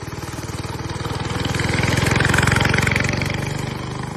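Mini bike engine running close by, a loud steady small-engine putter with a fast regular pulse that swells slightly in the middle.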